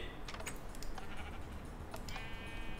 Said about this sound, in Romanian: Oaie.